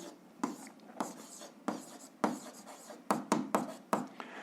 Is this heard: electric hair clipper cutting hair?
no